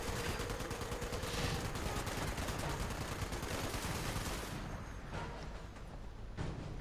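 Heavy, continuous Fallout 76 gunfire from above with rapid overlapping bursts and explosions, loud throughout and easing slightly near the end, no talking.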